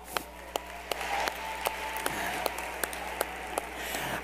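Applause from a convention audience welcoming first-time attendees, a steady wash of clapping running the full length with sharp individual claps popping out at regular intervals.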